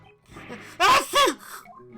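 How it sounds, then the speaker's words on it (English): A single sharp sneeze-like burst from a character in Ace Attorney Investigations 2 video game, a quick airy inhale followed by an explosive exhale, close and loud, with a second burst right after. "Don't sneeze on the stuff."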